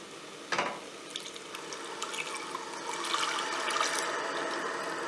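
Syrup, 200 ml, poured through a small sieve while making Indian apple halva, a steady liquid splashing and trickling that builds in strength, with a small clink near the start.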